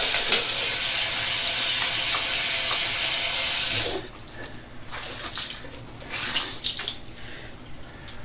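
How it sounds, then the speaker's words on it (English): A tap runs cold water into a sink after a shave with a double edge razor, a steady bright hiss that cuts off midway, followed by quieter splashing and dribbling as water is used. "put some cold water on"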